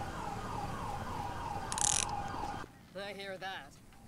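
A police car siren in the video game GTA 5 wails steadily, then cuts off and switches to a faster rising-and-falling yelp, while a voice speaks faintly underneath.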